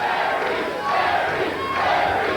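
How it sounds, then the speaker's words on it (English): Wrestling arena crowd roaring and chanting in swelling waves, a dense, loud mass of voices rising and falling over a couple of seconds. "Listen to the crowd."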